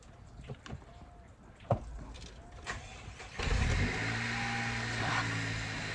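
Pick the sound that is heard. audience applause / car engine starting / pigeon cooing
car engine starting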